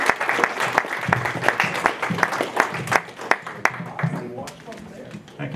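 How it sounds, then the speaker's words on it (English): Scattered applause from a modest gallery audience welcomes a poet to a reading, individual claps clearly separated and irregular, thinning out toward the end with some murmuring underneath. "let's give George a round of applause"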